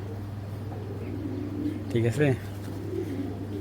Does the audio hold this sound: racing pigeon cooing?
yes